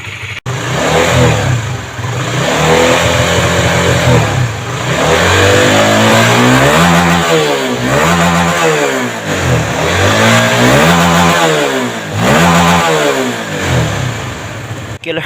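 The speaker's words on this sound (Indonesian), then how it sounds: "sebentar kita coba geber-geber sedikit pemirsa" A Honda Supra GTR 150 motorcycle engine, freshly started after a TPS sensor swap and throttle body cleaning, is revved repeatedly nearby, its pitch rising and falling in several throttle blips between steady idle, with no talking.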